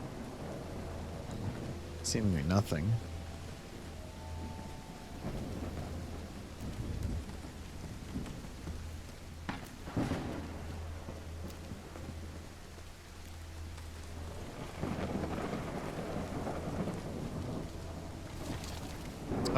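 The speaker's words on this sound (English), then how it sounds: "It's raining cats and dogs here." Heavy rain pours steadily in the Call of the Elder Gods game, with rumbles of thunder breaking through and someone speaking over the storm in places.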